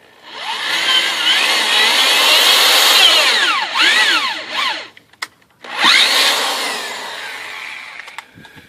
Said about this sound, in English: I've got a 1/4 inch drill bit and a 1/4 inch peg